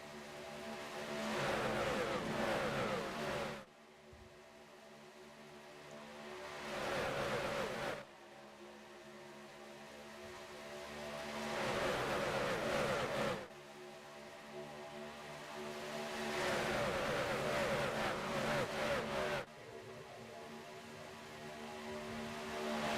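Race trucks screaming down the back straightaway at Daytona in a racing video game: loud engine roars rise and swell in repeated passes, each cutting off abruptly, with a steady droning hum underneath.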